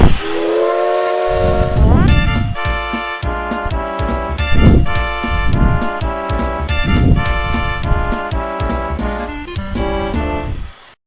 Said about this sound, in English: there was a whistle that went off